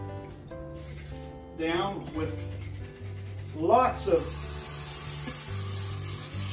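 Cooking spray hisses onto a bundt pan in two short bursts, moderately close, while a person talks over a low kitchen hum.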